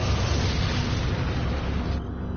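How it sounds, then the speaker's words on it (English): An incendiary grenade erupts in Resident Evil 4, a loud sustained roaring blast with heavy low rumble that holds steady for about two seconds before easing slightly near the end. "Wait a second, I have incendiary grenades."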